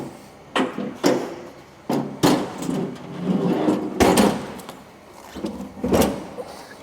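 A steel hopper bin on a Gadlee GTS1900 ride-on sweeper slides back into the machine, producing scraping metal slides and several loud knocks and thuds spread over a few seconds.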